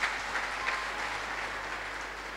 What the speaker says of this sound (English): shall we clap for Jesus?